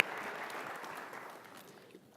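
Audience applause for panelists at a defence cooperation conference, a faint, diffuse wash of clapping that thins and fades away toward the end.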